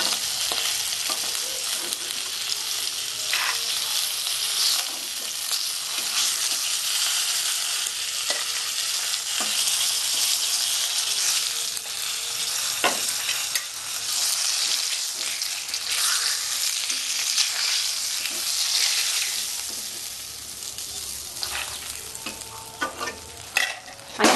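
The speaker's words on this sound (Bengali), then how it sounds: "মাছটা আমার ভাজা হয়ে গেছে, আমি এবার মাছটাকে তুলে নেব।" Turmeric-coated rui fish fries in plenty of hot oil with a steady, close sizzle and crackle that runs throughout, broken by occasional spatula taps and scrapes. No voices are heard.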